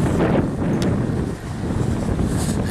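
Strong wind buffets the microphone in a continuous low roar, gusting and easing slightly, with no other sounds standing out.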